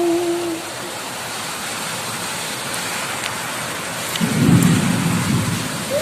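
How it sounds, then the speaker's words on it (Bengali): Heavy rain pours outside a window, a steady close wash of rainfall, with a deep rumble of thunder rolling in near the end. "মাঝে মধ্যে এত বৃষ্টির ঝাপটা আসছে না, মানে জানলা খোলাই যাচ্ছে না"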